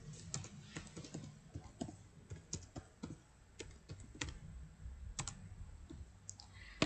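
Keys tapped on a computer keyboard while entering column names into an SPSS data sheet, irregular close clicks in short bursts over a quiet room, no talking.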